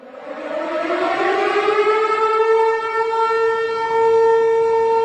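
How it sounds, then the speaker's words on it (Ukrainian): An air raid siren wails steadily, its tone rising at the start and then holding a loud, sustained pitch with no other sounds. "А ось так звучить саме повітряна тривога."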